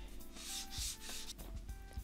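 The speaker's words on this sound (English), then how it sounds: "let's move on to final grit. 400 grit. Wet and dry." Wooden part for an electromechanical clock being hand-sanded with 400 grit wet and dry paper, a soft close rubbing hiss in quick back-and-forth strokes.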